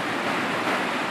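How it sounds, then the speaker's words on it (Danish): Water running steadily down into a large cave in Vietnam, a continuous broadband rush like surf or a waterfall, filling the space evenly with no breaks. "Vi kan høre vandet. Det løber nedad og nedad og nedad hernede."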